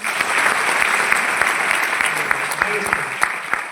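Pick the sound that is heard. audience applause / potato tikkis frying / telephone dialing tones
audience applause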